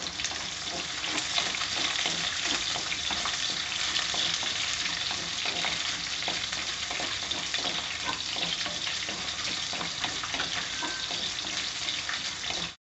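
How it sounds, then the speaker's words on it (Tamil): Dried red chillies and garlic cloves sautéing in hot oil for an eggplant kuzhambu, giving a steady, close, continuous sizzle and crackle with faint stirring, no voices. "இதை வந்து நல்லா வதக்கிக்கோங்க"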